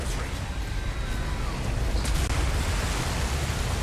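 Steady, dense rain hiss from the video game Resident Evil 4 on PS5 fills the whole clip, a continuous wash of noise with no pauses.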